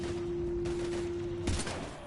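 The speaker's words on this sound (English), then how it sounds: "We're taking heavy fire." Gunfire in a Mass Effect 3 battle, a dense, continuous rattle of shots with a sharper burst near the end, over a steady tone and hum.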